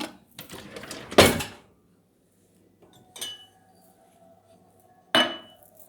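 Dishes unloaded from a dishwasher, with three separate sharp clinks and clatters of crockery set down close by, spaced by quiet pauses and a faint lingering ring after the second.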